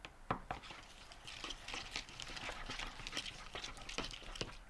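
Slime being stirred as activator is worked in, giving irregular wet squelches and sticky clicks at close range, steady throughout with no talking.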